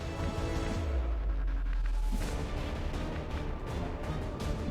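A shotgun blast in XCOM Long War of the Chosen lands as a deep booming shot with a low rumble that fades over a couple of seconds, with no talk.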